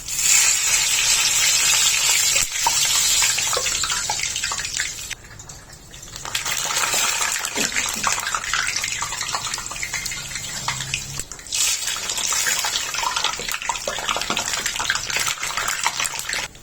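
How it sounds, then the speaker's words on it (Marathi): Urad dal vadas frying in hot oil over a low flame, a steady loud sizzling hiss that runs continuously with brief dips, no voices. "तेलात घातलेले वडे मंद आचेवर तळून घ्यायचे"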